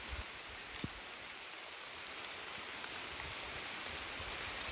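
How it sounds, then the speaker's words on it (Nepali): Steady rain falls across an open farm field in a village, a dense, even hiss of drops holding constant throughout with no voices. "ओहो पानी पर्यो"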